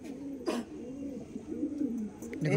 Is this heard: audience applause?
no